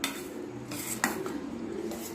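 Rava cake batter being mixed in a bowl, a utensil clinking and scraping against the sides with a few sharper knocks, close and fairly quiet, no voices.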